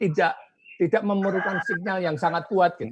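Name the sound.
rooster crowing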